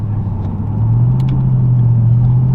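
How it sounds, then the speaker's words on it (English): A 2006 Mercedes-Benz CLS 55 AMG accelerates after a burnout, its engine a loud, steady low rumble that swells slightly and holds, close and without talk. "After it's done doing its burnout and this thing hooks, it goes."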